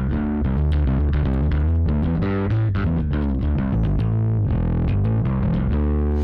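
Heavily distorted guitar through a Zoom MultiStomp SansAmp-style distortion pedal with drive at maximum, loud chugging riffs and sustained chords with thick, buzzy saturation and a hissing top end, playing continuously without speech.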